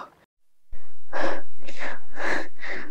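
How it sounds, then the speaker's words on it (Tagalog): Heavy panting after a steep uphill climb on a Sagada trail, with a few loud, ragged breaths close up after a brief silence, breathless and alone. "Hingal na ako."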